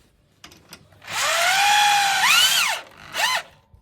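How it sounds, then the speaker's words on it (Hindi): A cordless drill machine drives screws tight on an antenna mount, a couple of faint clicks followed by a loud whirring run lasting nearly two seconds that pitches up and stops, then a shorter second burst. "इस ड्रिल मशीन से आराम से जो है ना इसको टाइट कर लेंगे"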